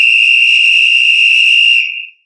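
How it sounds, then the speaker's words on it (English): A single loud, sustained whistle blast holds a steady shrill tone for about two seconds, then fades quickly to silence. No voices are heard. "I got this whistle around my neck."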